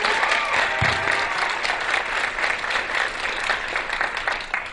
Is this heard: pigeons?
no